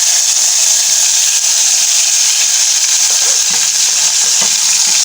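Tomatoes dropped into frying cumin for chutney, a loud, steady, close sizzle and hiss filling the whole clip, with faint stirring underneath.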